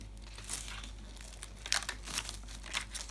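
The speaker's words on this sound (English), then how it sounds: "And then fold along the other 2 lines" Paper is folded along creased lines for a simple Easter craft, with faint, close-up crinkling and soft rustles arriving in several short bursts in a quiet room.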